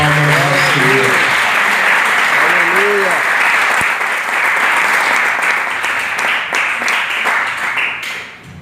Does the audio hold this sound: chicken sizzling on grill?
no